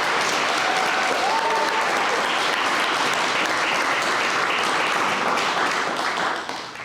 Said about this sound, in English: can we give one more round of applause to all of the Alumni Award recipients tonight?